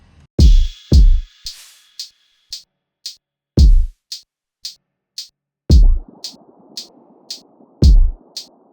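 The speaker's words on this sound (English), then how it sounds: "I put halftime on the drums." A slow, halftime R&B outro drum beat: heavy kick drums with snare hits and crisp, evenly spaced hi-hat ticks, with a bright noisy wash entering midway.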